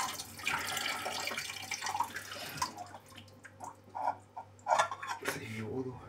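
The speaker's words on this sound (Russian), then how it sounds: "Сливаем воду." Water from a pot of cooked noodles pours and splashes into a sink, with irregular gushes and a faint metallic clatter near the end, close by.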